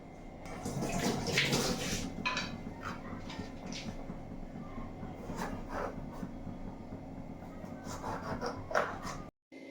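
Capsicum soaking in a bowl of water gives soft sloshing and swishing splashes, close and quiet, with gentle irregular movement until a sudden cut at the end.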